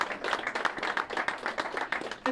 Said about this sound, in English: So I'm going to give you all a round of applause.